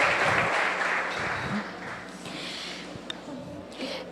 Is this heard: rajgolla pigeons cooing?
no